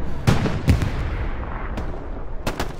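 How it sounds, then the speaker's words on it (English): Scattered gunshots and booming blasts in a WW2 video game firefight, a few loud reports near the start and more near the end, with rumbling battle noise in between. "I'm just shooting that way"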